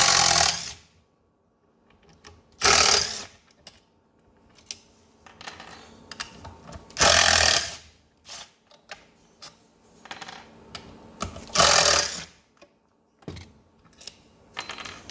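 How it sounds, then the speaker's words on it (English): Four Torx T30 screws are driven out of the throttle body on a Ford Focus RS mk2 inlet plenum, heard as four short, loud, close bursts of a power driver separated by quiet pauses and faint handling noises. "So now we've got to remove your throttle body. So it's just 4 T30 screws."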